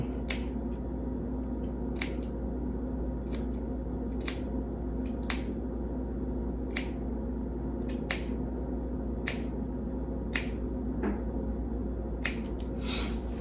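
Scissors cut the base of a hair system with about a dozen crisp, close snips at irregular intervals over a low steady room hum.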